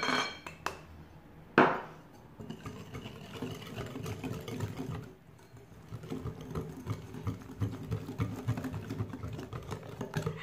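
Milk and other batter ingredients being mixed in a bowl for fluffy Japanese pancakes, with continuous clinking and scraping of a utensil against the bowl and a sharper knock near the start.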